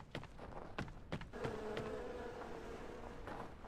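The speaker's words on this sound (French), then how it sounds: "Ah, elles sont au taquet, les abeilles." Bees buzz in the co-op video game No One Survived, a steady droning swarm under a few sharp clicks and knocks at the start.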